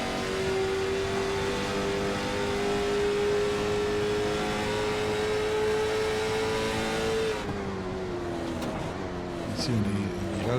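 Race cars on the Charlotte Roval road course in a racing video game, a sustained engine drone holding steady pitch before easing down as the car brakes, loud and continuous with faint talk beneath.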